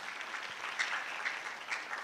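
Applause from an audience at a university public lecture in a hall, a short, fairly faint patter of clapping heard alone.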